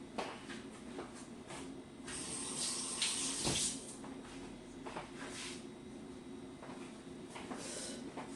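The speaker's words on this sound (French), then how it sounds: "je vais me laver les mains et je reviens" Hands are washed under a running kitchen tap between cooking steps, a soft, steady splashing of water with faint clatter, fairly quiet and close, with no talk.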